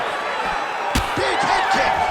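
A heavy head kick lands with a sharp smack in the UFC 5 fighting game, a single broadband impact partway through, set against steady arena crowd noise with commentary talk around it.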